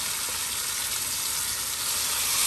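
Marinated mutton frying with whole spices in a pan, a steady loud close sizzle that holds evenly throughout with no talking.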